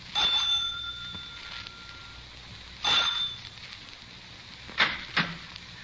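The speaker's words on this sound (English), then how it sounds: "I rang the front doorbell." A front doorbell at a boarding house rings three times in separate bursts, a bright metallic ring with gaps of quiet between, fairly close and with no voices.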